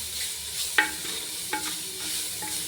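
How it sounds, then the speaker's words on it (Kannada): Onion, ginger garlic paste and curry leaves fry in a pan with a little oil, ghee and coconut oil, a soft steady sizzle broken by a few sharp scraping stirs of a spoon; no talking. "ಈರುಳ್ಳಿ, ginger garlic paste, ಕರಿಪತ್ತ, everything ನೈಸಾಗಿ fry ಮಾಡ್ತಾಯಿದ್ದೀನಿ."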